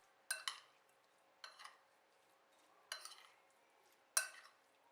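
Marinated chicken breast cubes being mixed with salt and ground black pepper in a bowl, heard as four separate bursts of clinking, scraping stirs spaced apart with quiet between them, fairly soft and close.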